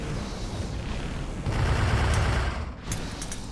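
Gunfire in the online shooter Global Agenda: a steady, dense rattle of shots and low rumble that swells louder midway, with a few sharp high pings near the end and no talking.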